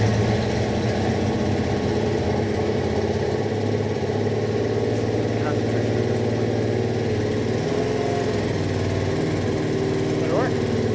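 A rebuilt Buick Nailhead V-8 engine idles with a steady low rumble and even throb, running continuously and loud, with faint voices in the background.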